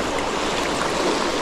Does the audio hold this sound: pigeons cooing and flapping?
no